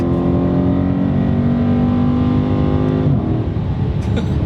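A car engine strains loudly in first gear, its steady, droning roar holding close and constant before it abruptly shifts down in tone near the end.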